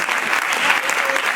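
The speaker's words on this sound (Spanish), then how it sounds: "vamos a darles un aplauso a todos." Audience applause for an engaged couple at a live LGBT stage show in Spanish, a dense steady clapping that holds at even strength for the whole span with no voices over it.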